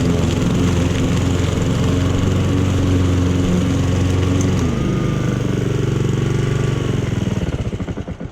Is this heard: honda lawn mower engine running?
yes